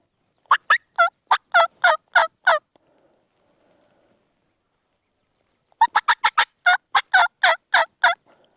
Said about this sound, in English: I just think that one's not gobbling as much